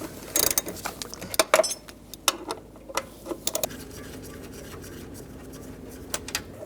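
A socket wrench with a 10mm socket ratchets out door hinge bolts on a 2007-13 Chevy Avalanche, giving quick bursts of close clicking with short pauses between strokes.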